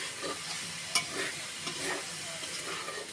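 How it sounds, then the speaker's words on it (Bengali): Bottle gourd (lau) frying and being stirred in a pan in a home kitchen, a steady soft sizzle with light scraping strokes and one sharp clink near the start. "এই যে এখানে আমার আপা রান্না করতেছে লাউ ভাজি আর ডিম ভাজবে"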